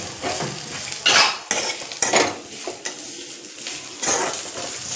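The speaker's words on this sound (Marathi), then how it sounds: "आलं आणि लसूण हेही परतून घ्यायचं." Ginger, garlic, cumin, sesame seeds and curry leaves sautéing in a pan, with a metal spoon scraping and stirring in bursts over a steady close sizzle, no talking.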